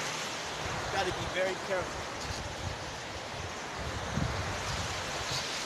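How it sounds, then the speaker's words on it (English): Rainwater floodwater pours out in a steady, broad rushing wash in a flooded Houston park, continuous and fairly near, with a person speaking briefly over it and some wind buffeting. "All that water from the rain just pouring out over there."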